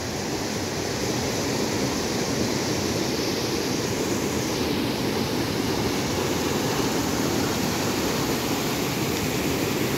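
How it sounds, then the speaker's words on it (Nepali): Khadu Khola, a rushing mountain river spreading wide as it flows downhill, gives a loud, dense, continuous roar of water that stays steady and unbroken, with no voices. "यहाँबाट बिस्तारै तल तल एकदम फैलिँदै गएको छ यो खोला है।"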